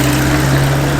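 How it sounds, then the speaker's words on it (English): Old classic cars, including Jensen and Bentley, idle and run at a car show and road run, giving a close, steady low engine drone with a constant hum. "so you can hear the lovely engine sounds of these old cars."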